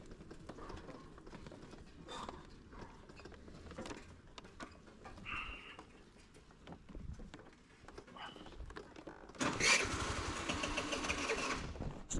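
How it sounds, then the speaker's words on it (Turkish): A boat's outboard engine is started on the water during a spin fishing trip, low mechanical rumbling and clatter building to a louder, steadier run near the end, with some faint background noise throughout. "böyle bir motor çalıştırmayı da kayıt altına almasaydım göremezdik herhalde"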